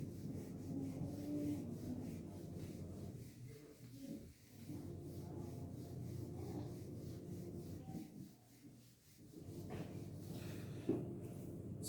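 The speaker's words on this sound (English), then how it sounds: "Let me rub this first board and then I'll move on the question number" An eraser rubs across a classroom board in a steady, dull scrubbing that continues for most of the stretch with brief pauses, fairly close and moderately loud, with no talking.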